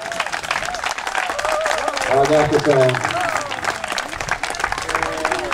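A crowd applauds a swimmer finishing the Vidösternsimmet open-water swimming race, with sustained clapping mixed with cheering and voices talking over it.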